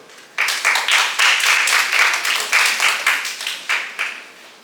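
Audience applause at a secondary-school Malay-language speech contest, a dense burst of many hands clapping that starts abruptly and holds steady and loud, with rhythmic swells, no talking over it.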